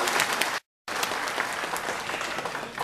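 A seminar audience in Dubai claps in dense, sustained applause to welcome a leader, loud and close, broken by a brief total cut before the clapping resumes.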